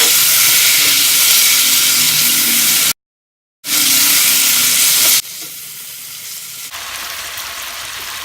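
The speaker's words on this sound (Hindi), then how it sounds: "हम आँच तेज करके इसको भून लेंगे। ये देखिए हम इसको भून रहे हैं भी।" Masala chicken fries on high heat in a pan with a loud, close, continuous sizzle and hiss, briefly cut off before resuming and then settling to a softer crackle.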